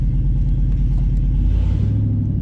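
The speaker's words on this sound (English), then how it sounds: "I don't want to run this truck any longer because I don't want to gas myself out." A truck engine with a fuel pressure problem runs at close range, a loud, steady low rumble with a regular throbbing pulse and no voices.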